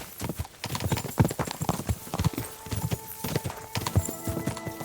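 Fast, thudding hoofbeats of several horses galloping close by in Kingdom Come: Deliverance 2, with a neigh and game music tones underneath.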